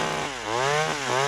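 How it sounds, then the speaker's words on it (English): A cartoon chainsaw in Family Guy revs loudly and close, its engine buzz rising and falling in pitch through a couple of throttle surges. "I want a chainsaw!"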